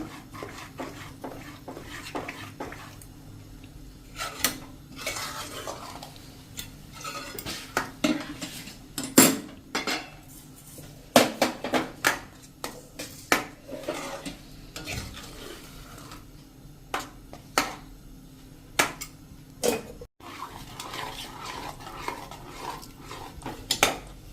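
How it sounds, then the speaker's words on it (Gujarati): A spoon stirring carrot rasgulla mixture in a pan, with repeated close scraping and clinks of metal against the pan over a low, steady sizzle, irregular bursts of stirring continuing throughout. "આપણું મિશ્રણ આ એકદમ પલ્પ જેવું થઈ જાય ને ડો જેવું ત્યાં સુધી આપણે આ હલાવવાનું છે"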